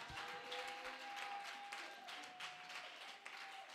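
A church congregation claps and cheers for the Lord, a steady wash of applause from a crowd, moderately distant and fairly soft, running unbroken for a few seconds.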